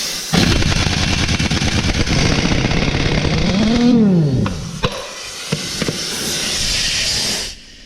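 Sharp hiss of compressed air escaping from a hole in a Mack truck's air line, loud and close. A rising and falling engine or compressor tone sits under it, then comes a quieter stretch broken by a few clicks.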